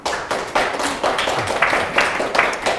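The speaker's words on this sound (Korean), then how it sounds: "박수 한번 칩시다." Audience at a lecture hall talk claps together in rhythmic bursts, a close, moderately loud patter of hands with slightly uneven beats and no speech over it.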